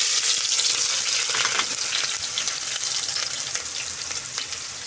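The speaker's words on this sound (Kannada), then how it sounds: "ಈ ಕಡೆ ನಾನೀಗ ಎಣ್ಣೆ ಅಂತ ಕಾದೈತೆ ರೀ. ಉಳ್ಳಾಗಡ್ಡಿನ ಹಾಕ್ಕೊತೀನಿ ರೀ." Onions drop into hot oil for chicken biryani and fry with a loud, continuous close-up sizzle and crackle that eases slightly toward the end, with no voices.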